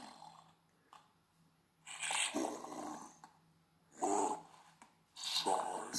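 Warped, slowed-down WAV playback from an ESP32 I2S audio setup that lurches and gradually speeds back up, producing deep growling, bear-like bursts separated by pauses.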